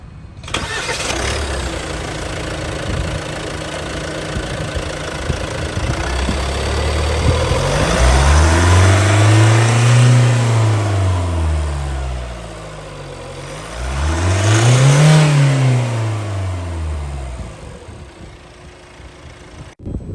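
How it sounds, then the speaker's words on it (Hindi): A Hyundai Tucson 2022 Smartstream diesel engine idles with a clattering rumble, then revs up twice in long, smooth swells before settling back to idle. "आइए अब डीजल इंजन की साउंड सुनते हैं।"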